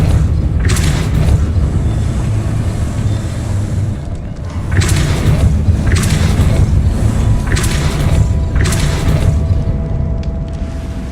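Depulso spell effects fire in Hogwarts Legacy: several loud, booming blasts with airy whooshes burst at a roughly steady pace over a continuous rumbling game background.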